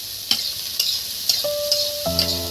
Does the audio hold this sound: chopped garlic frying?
yes